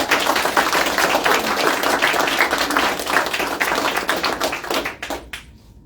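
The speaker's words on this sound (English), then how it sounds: "let's give them a big round of applause" At an award celebration, an audience applauds two board members presenting awards: steady, dense clapping from a small crowd that thins out and stops near the end.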